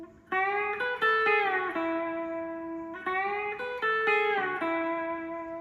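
Electric guitar bends in a country style imitate pedal steel fills, with notes sliding up and settling into a twangy sustain, played in two similar phrases with a clear attack on each note and no talking.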